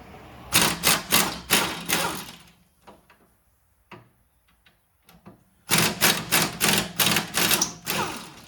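Two loud bursts of rapid rattling hammering from an air impact wrench on an extension spinning off rear hub bolts of a 2008-2012 Honda Accord, separated by quieter clanks and handling noises.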